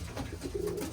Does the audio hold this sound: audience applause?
no